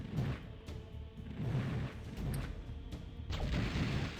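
Icy Frost Shards spell cast repeatedly in the remastered Hexen, sharp bursty impacts and crashing whooshes coming in several waves, fairly loud with no talking.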